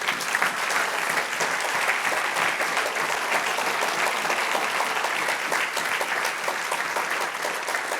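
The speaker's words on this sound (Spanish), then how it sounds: "Denle un aplauso al Señor." A church congregation claps in unison, a loud, dense and continuous burst of applause filling the room for several seconds without letup.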